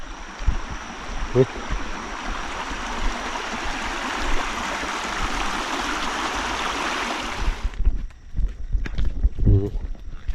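A rushing stream in rainy weather flows as a steady broadband wash for most of the stretch, then drops away, leaving scattered footsteps and small knocks nearby.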